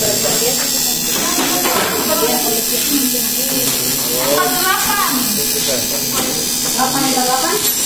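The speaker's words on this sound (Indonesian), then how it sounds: "kalau misalnya di RPM 2000 sampai 3000 seperti ini dia pengkabutannya" A motorcycle fuel injector tester and cleaner runs at 2000 to 3000 RPM with a steady, loud electric buzz. Nearby speech in Indonesian carries on over it throughout.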